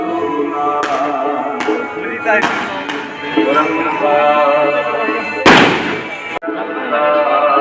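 Several sharp firecracker bangs pop at irregular intervals over a dense, steady din, with one especially loud burst near the end, during Guru Nanak Dev Ji's birth anniversary celebrations.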